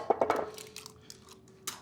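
Eggs for scrambled eggs crack and drop into a bowl with a few quick clinks and taps, followed by softer knocks, all fairly faint and close.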